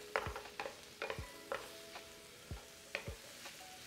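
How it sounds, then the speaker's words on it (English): Chopped vegetables sauté in a pan for stuffed bell peppers, with a steady low sizzle broken by sharp, irregular spatula scrapes and taps close by; no one speaks. "We're going to saute the veggies until they're nice and soft."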